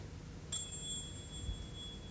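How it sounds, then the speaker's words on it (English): A single quiet, high metallic ring, like a small finger cymbal struck once, sustains faintly over low background noise. "I'm playing quietly on the finger cymbal."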